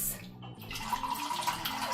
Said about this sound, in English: Okay, now we're gonna pour.